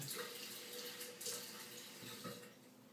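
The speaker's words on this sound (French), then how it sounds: "Je rince rapidement mon visage." Tap water runs steadily into a sink while a face and a Clarisonic cleansing brush are rinsed, a continuous moderate splashing hiss with small shifts as hands move through the stream, no voices.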